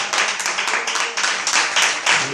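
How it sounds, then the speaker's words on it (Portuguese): A church congregation claps in unison, with steady rhythmic clapping that is loud, close and continuous. "Vamos dar uma linda salva de palmas para Jesus."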